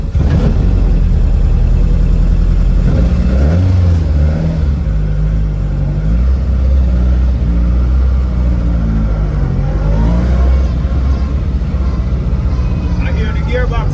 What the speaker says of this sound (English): I hear the gearbox now